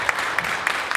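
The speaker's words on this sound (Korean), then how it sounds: "박수 한번 쳐주십시오" A church gathering applauds the pastor's wife who played the accompaniment, a brief burst of steady clapping with a few sharper claps standing out.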